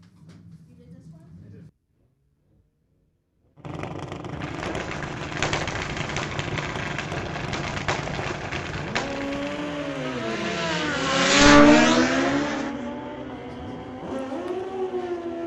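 Drag racing at Mission Raceway Park with an '08 Kawasaki against an '08 Hayabusa, loud sustained engine roar with rising revs and a swelling peak as the bikes launch, under a steady announcer's voice.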